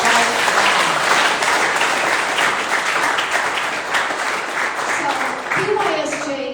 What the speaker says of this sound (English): Can we clap here?